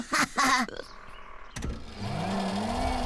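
Cartoon engines start up: a couple of short mechanical bursts, then a whirring motor spins up and holds a rising, steady hum, moderately loud and alone.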